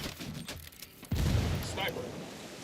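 Gunfire in Ghost Recon Wildlands: bursts of shots crackle in the first second, then a heavy boom strikes and rumbles away while scattered shots continue, with voices talking among the blasts.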